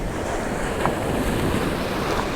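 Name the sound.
ocean waves on a beach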